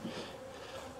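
Honey bees buzz close by at an opened hive in a low, droning hum, steady over a brief moment.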